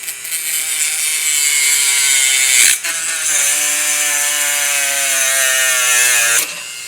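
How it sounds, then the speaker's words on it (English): A Dremel rotary tool cuts a small piece of material with a loud, steady high-pitched whine heard close by. The whine dips briefly midway and resumes, and no one talks over it. "We got our Dremel right here."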